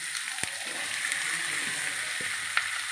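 Vegetables sauté in a hot pan for a four-vegetable poriyal, giving a steady close sizzle with a few sharp clicks and stirring knocks scattered through.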